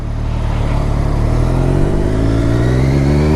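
A 2015 Triumph Daytona 675 motorcycle engine revs loudly on its factory exhaust, holding a steady, rising drone close by for a few seconds with no talk.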